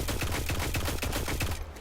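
Rapid gunfire rattles in a quick, even burst of shots while enemies are fired upon in a winter Cosmodrome level of the Destiny video game, loud and continuous across the short stretch.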